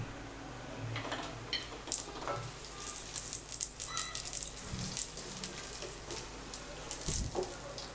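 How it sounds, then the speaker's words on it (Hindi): Cumin seeds and bay leaves sizzling in hot oil for a beef karahi, a soft, steady frying crackle with scattered light pops and a few faint clinks, fairly quiet and close. "ऑयल को गरम करें। इसमें ज़ीरा और तेज़पत्ता डालें"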